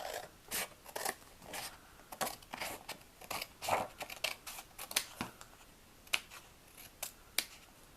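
Scissors snip repeatedly through paper scraps trimmed for a handmade bookmark, a series of sharp, close crunchy cuts at an irregular pace with no talking.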